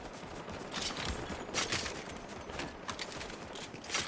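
Rapid gunfire in Fortnite aimed at a falling supply drop, dense overlapping shots in a steady volley with sharper cracks standing out, fairly quiet overall.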